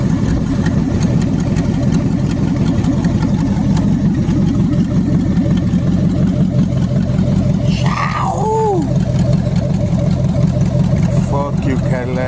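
Cadillac engine running steadily at idle after a starter repair, a continuous low rumble close by with someone talking over it partway through.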